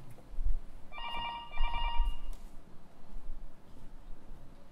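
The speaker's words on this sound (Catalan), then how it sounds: "Està sonant un telèfon." An old telephone bell rings twice in quick bursts over a noisy room background during a stage play performance, fairly close and clear.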